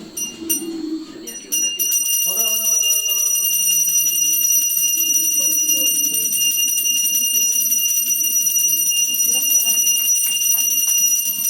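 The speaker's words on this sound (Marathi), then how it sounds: "नीट वाजव घंटी" A bell rings continuously during a traditional Konkan Dussehra ritual, a bright sustained metallic ringing that runs through the whole stretch while people talk over it.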